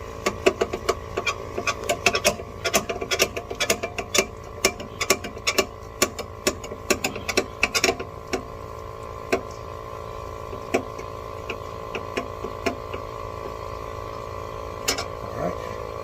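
Jack being cranked by hand with a tire iron to lift a Maserati Levante for a flat tire change, giving rapid ratcheting mechanical clicks that thin out into occasional clicks over a steady low hum.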